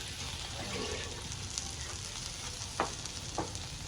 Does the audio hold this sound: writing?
no